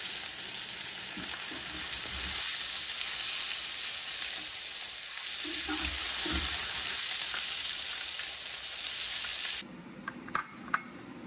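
Food fries until golden in a pan while a pasta dish is prepared, a loud, continuous sizzle that stops abruptly near the end and is followed by a few light clinks.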